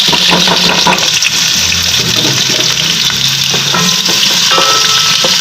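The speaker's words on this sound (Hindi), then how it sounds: "डेट के ऊपर कुकिंग ऑयल डाला हुआ है, ये प्याज डाल दूँगी।" Onions frying in cooking oil in a home kitchen pan, with a loud, dense, continuous sizzle and crackle plus stirring, close up and without talk.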